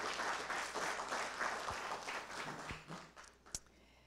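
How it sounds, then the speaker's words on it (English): Audience applause for a guest at a lecture event, a moderate wash of clapping that fades toward the end, with a few isolated louder claps closing it. "Let's give her a round of applause."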